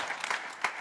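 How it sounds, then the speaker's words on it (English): A brief burst of audience applause at a mayoral candidate forum in Irvine, a crowd clapping in a hall, moderately loud and lasting under a second. "let's try to hold our applause"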